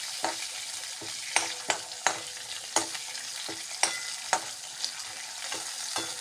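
Chopped green chillies frying in a pan for cabbage gojju, a steady sizzle broken by repeated sharp spatula scrapes and taps at an irregular pace, close by and without speech.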